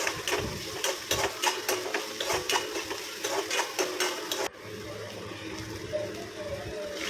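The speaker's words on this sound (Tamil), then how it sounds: "பொடி பொடியாக நறுக்கின வெங்காயத்தை ஆட் பண்ணி நல்லா வதக்கணும்" Finely chopped onions sauté in a pan with a continuous crackling sizzle, broken for several seconds by the repeated scrape and clatter of a spoon stirring, then settling into an even fry.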